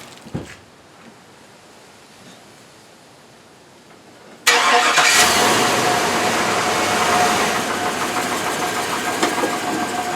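A GMT800 pickup truck's engine catches abruptly after a quiet lead-in, then settles into a loud, steady idle that runs on alone for several seconds.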